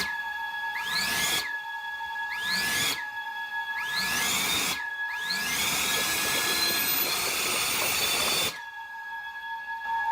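Drone motors rev up in repeated rising whines, each burst throttling up then cutting down hard, several cycles in a row before a longer sustained high-pitched run that drops off abruptly, loud and close with no talking.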